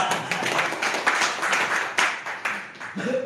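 Training-session audience clapping hands together in a dense, uneven burst of applause lasting a few seconds, with sharp overlapping claps and a voice briefly audible near the end.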